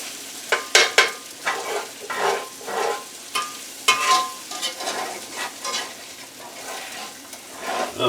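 Onions cooking for a brunch in a cast iron pan, a crackling sizzle broken up by repeated scraping and stirring strokes in an uneven rhythm, close by, with no one talking.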